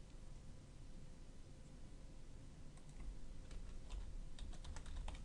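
Fingers type login details on a computer keyboard, giving faint, scattered key clicks that cluster toward the end over a steady background hiss.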